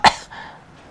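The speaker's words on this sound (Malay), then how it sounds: "Terbatuk, aku minta maaf." A single sharp cough from a man, close and abrupt, followed by a short fading breathy tail.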